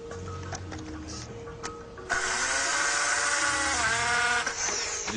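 After a couple of seconds of clicks and faint hum, a drill whirs loudly and steadily for about two seconds before winding down.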